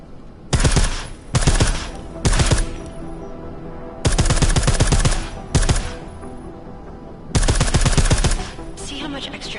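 Suppressed automatic gunfire in Deus Ex: Mankind Divided: repeated rapid bursts of close, punchy shots in an irregular rhythm, with brief pauses between volleys.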